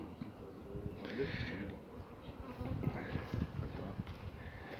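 A steady, close buzzing of many honey bees around a hive fills the air, swelling and fading as insects pass near, with soft rustling underneath.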